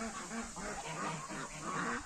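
Ducks and geese on a poultry farm honk and quack close by in a busy overlapping chorus, steady throughout with no talking.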